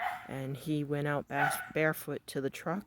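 A chained dog barks and whines in the background, its harmonic yelps repeating in uneven bursts, while someone talks over it close up.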